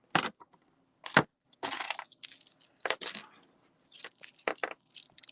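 Scissors cutting cardstock for a handmade card, with several separate crisp snips and short slicing bursts spaced irregularly, close and clear with no talk.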